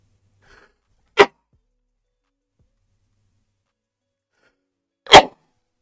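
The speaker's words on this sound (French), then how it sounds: "Je vais éternuer, je suis vraiment confus." Two sharp, sudden sneezes about four seconds apart break an otherwise silent indoor room, each a short loud burst.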